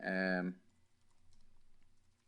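Soft clicking of keys as a command is typed on a computer keyboard, a quiet irregular patter after a brief tonal sound at the start.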